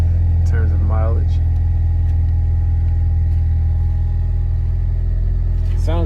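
A Dodge Hellcat with 63,000 miles idles at a Copart salvage yard, giving a loud, steady, deep rumble throughout, with brief voices over it near the start and end.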